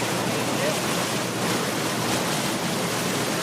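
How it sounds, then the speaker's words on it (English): A boat cruising up the Hudson River gives a steady, loud wash of water and wind noise that runs unbroken throughout, with no talk. "I've got some really wonderful sound effects of a boat going"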